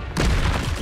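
A Confringo blasting spell cast in Hogwarts Legacy, one loud close burst that erupts suddenly and holds briefly.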